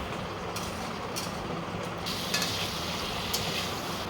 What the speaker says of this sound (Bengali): আমি এখানে এখন মাছ ভেজে নেব একে একে